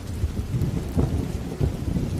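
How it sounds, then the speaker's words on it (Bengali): Steady rain mixed with deep rumbling thunder in a Bengali cartoon, a dense low roar that swells in a few rolling peaks, with no voices. "দেখো না কি সুন্দর বৃষ্টি হচ্ছে"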